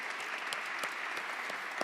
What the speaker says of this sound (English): give a round of applause to our very, very esteemed guests here today